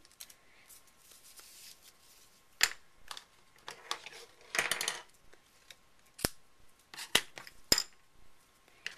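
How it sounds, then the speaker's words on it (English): Scissors snipping ribbon at an angle for a Cricut card craft: a scattering of short, sharp cuts and rustles up close, irregular and crisp against a quiet background. "I'm going to cut this at an angle so it's easier to thread through the hole"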